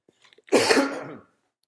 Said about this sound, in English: I'm getting over this cough and I have to clear my throat a little bit